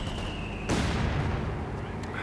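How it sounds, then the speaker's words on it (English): Tiger tank in Company of Heroes 2, a heavy engine rumble with a loud sudden low boom or impact partway through, dense low-end roar continuing over a busy game battle soundscape. "That is the sound of the Tiger tank."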